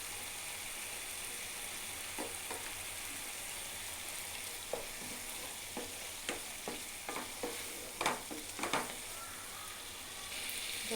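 Masala spices with ginger-garlic paste and onion sauté in a pan for a shrimp and okra dish: a soft, steady sizzle broken by scattered scraping and tapping stirring strokes that grow busier midway, with no talking.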